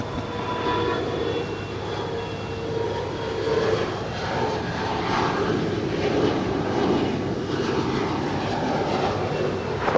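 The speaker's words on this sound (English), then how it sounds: "And now today we have the 330-300." Airbus A330-300 airliner at Los Angeles LAX airport gives a steady, broad engine roar that holds fairly loud and continuous for the whole stretch, with no voices over it.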